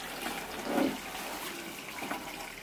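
Water flows steadily through a koi pond filter system driven by a 10,000-litre-per-hour pump. It makes a continuous gushing and splashing close by, with a brief louder surge early on and no talk over it.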